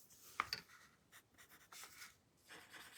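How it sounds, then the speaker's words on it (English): A pen drags across the surface of paper while drawing a Zentangle-style tile with swirls, making soft, quiet scratching strokes in short irregular bursts. "Almost dragging it across the surface of the paper."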